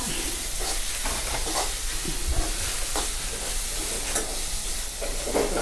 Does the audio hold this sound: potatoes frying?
yes